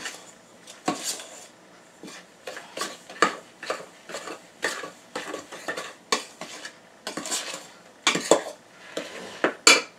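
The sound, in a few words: mixing flour, cornmeal, salt and baking powder together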